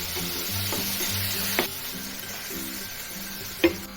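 Eight tomatoes are stirred in a hot pan for tomato curry, a soft continuous sizzle broken by a few scraping strokes and light clinks of a spoon against the pan.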